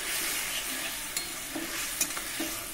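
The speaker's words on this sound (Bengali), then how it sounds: "মশলাটা খুব ভালো করে কষিয়ে নেব।" Ground spice paste with a splash of water sautéing alongside fried cauliflower and potato in a pan, a steady close sizzle punctuated by several sharp scraping stirs and clinks.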